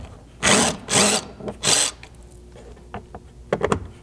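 A power driver with a 7mm socket backs bolts out of a Ford Bronco rear door panel near the grab handle, giving three loud, close whirring bursts followed by softer clicks and rattles of the tool and bolts.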